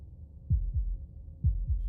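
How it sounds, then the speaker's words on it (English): Two pairs of soft, low, thumping heartbeat pulses, each a lub-dub double beat, muffled and faint with a quiet gap between them. "That was the sound of a heartbeat"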